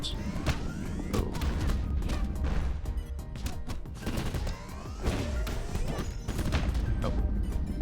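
Large cannons in the video game Super Crush KO fire in rapid heavy booms and crashes, layered over dense game music and effects in a loud, continuous barrage.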